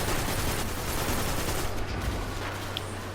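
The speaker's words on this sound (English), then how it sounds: "using the Grand Overture kind of like a auto cannon" Grand Overture weapon in a video game firing like an auto cannon, a dense, continuous barrage of rapid booming shots that stays loud and steady throughout with no talking.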